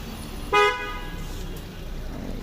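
A single short car horn honk sounds from a vehicle passing near a village pond where people are fishing for rohu, loud against steady outdoor background noise.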